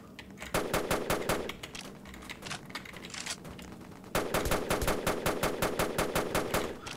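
Automatic gunfire from a weapon in Roblox, fired in two long rapid bursts separated by a short pause, sharp, evenly spaced and loud up close, with no talking over it.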